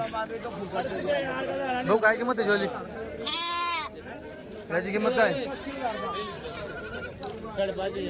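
Several goats, native village goats and young males at a livestock market, bleat loudly and close by, their wavering cries overlapping with people talking over them in a busy outdoor setting.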